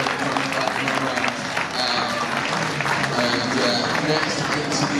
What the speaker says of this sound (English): A round of applause from the board riders as well.